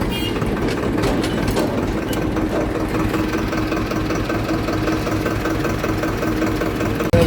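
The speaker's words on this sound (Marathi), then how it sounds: "पप्पाने टारली आणि ट्रॅक्टर जोडलेला आहे" A tractor with a trailer hitched runs at a steady idle, its engine rumbling and knocking continuously and fairly close for several seconds.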